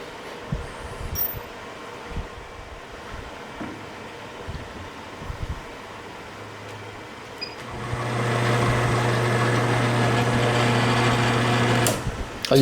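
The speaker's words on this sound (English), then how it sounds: "I'm going to go a couple of sizes up with a drill bit and go about halfway down" A quiet machine hum runs for several seconds, then a drill spins up and cuts steadily with a loud, high whine until it stops near the end.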